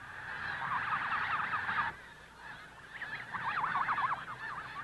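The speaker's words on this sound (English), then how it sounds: "the wild geese talk to each other of the long journey they'll soon be making back to Hudson Bay" Several wild snow geese honk loudly and continuously, their calls overlapping in a noisy chorus, pausing briefly before resuming.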